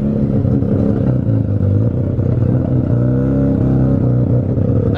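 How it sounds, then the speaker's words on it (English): A car at a car show revs hard like a race car, with a loud, continuous engine roar and rising and falling rev sweeps throughout, close by and with no talking. "That just sounds like a straight up race car."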